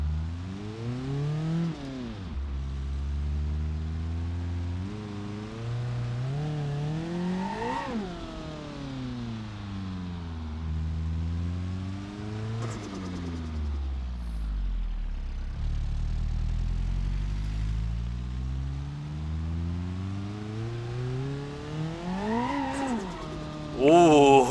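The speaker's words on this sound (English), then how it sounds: "Ooh, it's got blow-off noises." A twin-charged car engine in BeamNG.drive revs up and down repeatedly through gears, with rising and falling pitch sweeps and blow-off valve hisses between shifts, loud and continuous over about twenty-five seconds.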